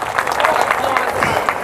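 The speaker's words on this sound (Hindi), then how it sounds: "इन सबके लिए जोरदार तालियों से इनका स्वागत करें" Brief burst of crowd clapping at a New Year public address in Hatta Bawli, a dense patter of hands behind the speech.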